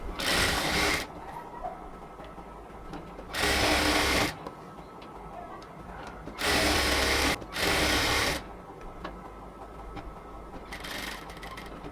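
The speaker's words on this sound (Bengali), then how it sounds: "এবার এখানে ঘন সেলাই দিয়ে আস্তে আস্তে ধরে ধরে সেলাইটা করতে হবে যাতে ঠিকভাবে হয়।" A sewing machine stitches a cotton dress border in several loud, close bursts of rapid whirring, separated by quiet pauses as the fabric is repositioned.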